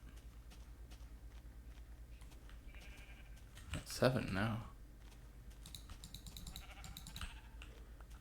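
A sheep bleats in Minecraft Beta 1.7.3, a single short bleat rising out of quiet game ambience and keyboard tapping about midway, with a person talking over it.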